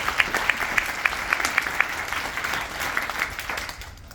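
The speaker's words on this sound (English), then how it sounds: "Give yourself a round of applause" Audience applause rises with a few distinct sharp claps at first, then a blended wash of clapping that fades out near the end.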